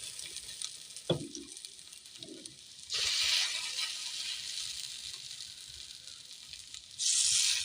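Drumstick leaf and red lentil fritters frying in hot oil, a soft sizzle with occasional knocks early on, then two louder bursts of crackling hiss as fresh batter meets the oil.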